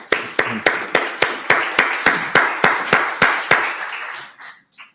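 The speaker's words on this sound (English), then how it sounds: "Let's applaud." An audience at a weather and climate science session claps in a steady, rhythmic beat of about a dozen sharp claps that slow and fade out near the end, with no talk over it.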